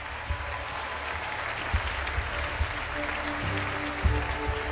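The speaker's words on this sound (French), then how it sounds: "bravo, on peut les applaudir tous les cinq" An audience claps steadily throughout, a continuous patter of applause at moderate volume with a few louder claps standing out, at a televised French talent show semi-final for young classical performers.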